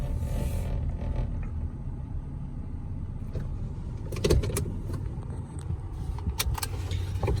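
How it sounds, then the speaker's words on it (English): A Toyota Tacoma truck engine idles steadily with a rough, rapid ticking running through it, loud and close, with no talking. "I'll let you hear that pecking in the motor. It's pretty loud."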